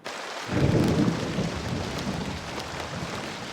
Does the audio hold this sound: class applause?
no